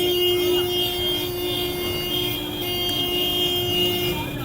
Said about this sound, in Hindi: बहुत ट्रैफिक है यहाँ पे और बहुत ज़्यादा आवाज़ आई है ट्रैफिक की